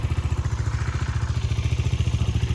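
A Bajaj Dominar 400 UG motorcycle idles close by, its engine thumping in a fast, steady, even pulse with a mechanical clatter, loud and alone throughout.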